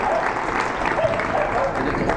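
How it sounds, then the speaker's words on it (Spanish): A church audience gives sustained applause for Father Eduardo, dense clapping from a crowd in a hall that stays steady and fairly loud, with a voice faintly audible underneath. "un aplauso para el padre Eduardo"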